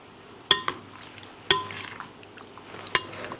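Three sharp clinks of a utensil against a bowl, about a second apart, with soft wet stirring sounds in between as sea bass pieces are stirred in marinade sauce; close and fairly quiet.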